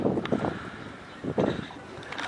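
Steady wind buffeting the microphone outdoors at a racing pigeon loft on a windy day, with rumbling gusts swelling and easing throughout.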